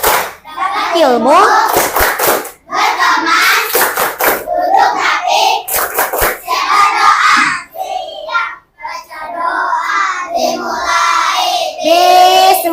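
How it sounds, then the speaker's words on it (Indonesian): Indonesian schoolchildren perform a rhythmic clapping chant together in class before going home, bursts of claps and thumps mixed with their loud chanting voices. "Tepuk pulang."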